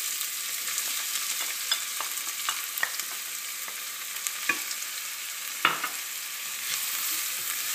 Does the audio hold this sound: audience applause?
no